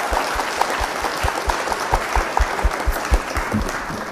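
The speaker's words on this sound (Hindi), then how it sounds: "जोरदार तालियों से स्वागत करेंगे मैम" An audience claps loudly and steadily to welcome a visiting medical college professor and principal, with a few sharper individual claps standing out from the crowd and no one talking.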